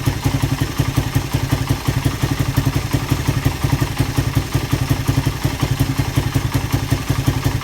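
A Suzuki Satria FU motorcycle engine with a new piston and valve trouble idles steadily, a smooth fast pulsing rumble with light mechanical clatter, close and alone without talk.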